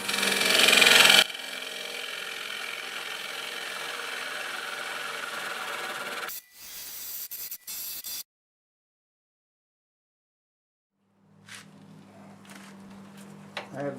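A wood lathe turning an end-grain apple bowl at about 1,000 RPM hums and whirs steadily for several seconds, then stutters and cuts off; after a silent gap a motor spins up again.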